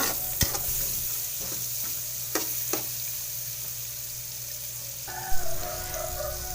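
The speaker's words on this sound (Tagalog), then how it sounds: "Halo-haloin lang natin siya guys para hindi po siya masunog." Tofu sisig being stirred in a frying pan, with a steady sizzle and a few sharp utensil scrapes and clicks against the pan, no talking.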